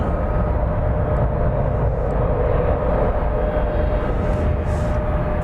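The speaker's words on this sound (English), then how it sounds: "An Airbus A321 of the NEO designation." Airbus A321neo airliner arriving at DFW airport at night, a steady broadband jet engine roar with a faint tonal whine, continuous and fairly loud throughout with no voices.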